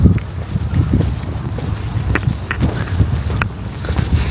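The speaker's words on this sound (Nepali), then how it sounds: "छेउमा हावा चल्छ होला है" Wind gusts across the microphone at a beach in Le Havre, France, a rough, uneven rumble with scattered thumps of buffeting and handling noise.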